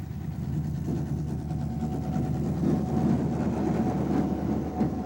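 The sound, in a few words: locomotive-hauled train in Ireland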